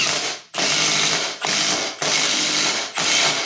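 A standard cordless impact driver drives screws in four loud, harsh bursts of rapid rattling impacts, each about half a second to a second long, separated by brief pauses.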